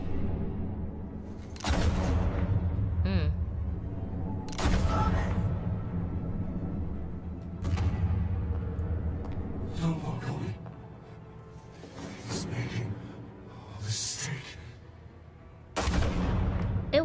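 Repeated gunshots ring out in the video game Batman: The Telltale Series, sharp bangs scattered through a tense scene amid low rumbling game audio, with characters' voices now and then.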